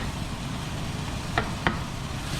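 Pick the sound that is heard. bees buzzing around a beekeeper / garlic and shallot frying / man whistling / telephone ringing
garlic and shallot frying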